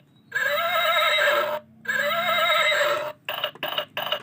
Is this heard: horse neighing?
yes